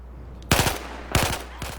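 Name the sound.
mounted gun firing in video game Battlefield 4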